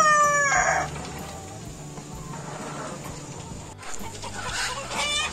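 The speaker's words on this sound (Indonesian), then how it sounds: "lihat keseruannya ayam lagi makan bagaimana" Roosters crow loudly at the start and again near the end, while hens cluck and chatter steadily in between as they feed, close by on a chicken farm.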